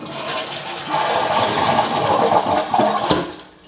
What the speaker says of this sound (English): Then you're gonna flush your toilet.